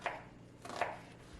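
A knife strikes a cutting board twice while dicing vegetables for a vegan meal prep, two quick, crisp chops that sound close and quiet.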